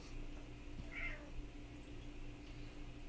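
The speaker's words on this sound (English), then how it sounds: "There may be random cat noises in the background." A house cat meows once faintly in the background, a short single call over a quiet room hum with a steady low electronic drone.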